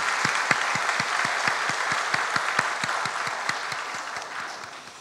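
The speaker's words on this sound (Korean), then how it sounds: "우리 힘차게 박수하겠습니다." A church congregation applauds during a Sunday worship service, with steady rhythmic clapping that holds for about five seconds and slowly fades, heard mostly alone without talk.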